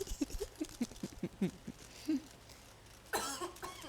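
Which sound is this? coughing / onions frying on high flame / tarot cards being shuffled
coughing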